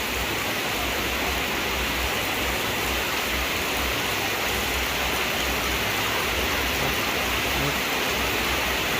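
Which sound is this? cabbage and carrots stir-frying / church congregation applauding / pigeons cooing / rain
rain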